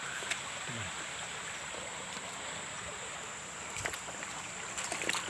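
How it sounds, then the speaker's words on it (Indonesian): A river flows steadily at night with a soft, constant rushing hiss throughout, joined by faint brief knocks and rustles near the end. "Masih di sepanjang aliran sungai."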